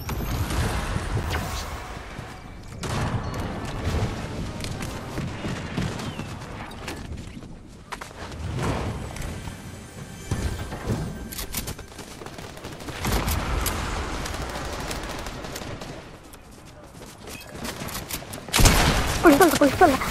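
Rifle fire in Fortnite's Reload mode comes in repeated bursts and single cracks throughout, loud and close, with excited voices talking over the shooting.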